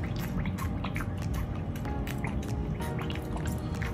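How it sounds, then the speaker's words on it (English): Water is sloshed around in a coral dip with a baster, giving a dense, continuous burble of wet squishing and dripping, close up and steady throughout. "just slosh the water around with my extra baster here."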